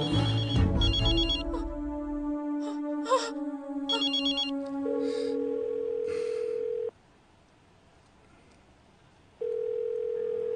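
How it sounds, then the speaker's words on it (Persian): A telephone rings in a harmonic electronic tone, first alongside brief background voices, then alone as a sustained steady ring that stops for a few seconds and starts again. The scene is a Tajik TV drama set late at night. "صدای تلفن؟ چه؟"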